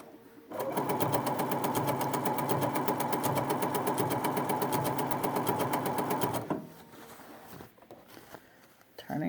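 A Bernina sewing machine stitches a blind hem in one steady, fast, close run of needle strokes lasting several seconds, then stops abruptly, leaving quiet handling sounds.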